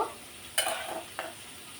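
Brief bursts of sizzling as dried fish hits hot oil, with a short stirring scrape, over a quiet background.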